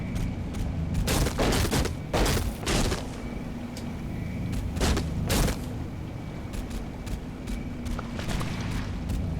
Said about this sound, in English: Never realized how loud those bullet sounds were